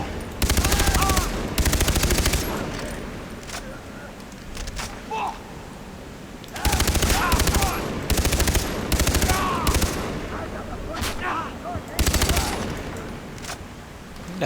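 Several bursts of rapid automatic gunfire from a low-damage gun in Far Cry 3, loud and close, with pauses and single shots between them while someone talks.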